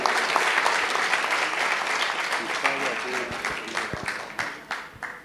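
An audience at a music talk claps for several seconds, a dense, close burst of applause that thins into scattered individual claps toward the end.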